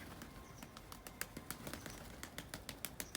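Rapid, rhythmic flapping of tumbler pigeon wings at close range, a steady series of soft beats over faint background noise.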